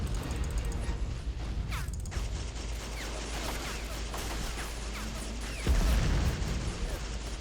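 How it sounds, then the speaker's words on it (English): Mortar shells burst in the World War I strategy game Battle of Empires 1914-1918, a rumbling battlefield bed broken by sharp impacts, with a heavier blast near the end over steady low din. "Getting mortared here."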